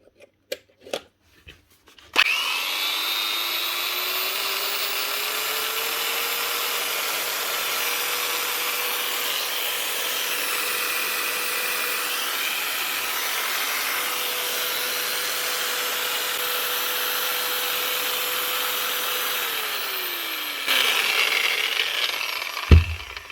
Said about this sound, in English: That's another Bosch grinder, the oldest one of the lot, up and running again.